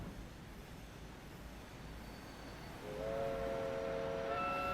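Train at a station in a railway video game, a steady rumble of rolling wagons that swells louder midway, with sustained tonal horn or whistle lines entering near the end; no voices.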